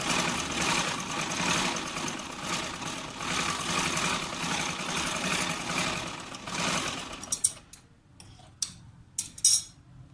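A sewing machine hums continuously while stitching a straight practice seam, then stops and a few sharp clicks and taps follow.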